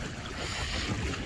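Wind off Laguna Lake buffets the microphone in a brief, steady, roaring gust.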